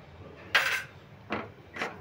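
Semolina stirred in ghee in a pan after salt goes in, three short scraping strokes of a utensil against the pan with quiet pauses between them.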